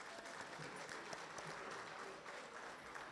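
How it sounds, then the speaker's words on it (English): Steady applause fills an awards ceremony for broadcasting excellence, a dense crowd clapping evenly and loud for the full stretch with no break. "Let's give her a huge round of applause."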